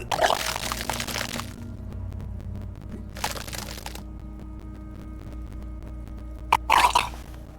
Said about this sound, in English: Your body curls and pushes it out, burst by burst, until a pool of vomit lies under your feet